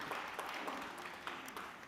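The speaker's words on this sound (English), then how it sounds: "Let's give her a round of applause as well." An audience at a learning-and-development talk gives a round of applause, a faint, distant, steady wash of clapping heard alone.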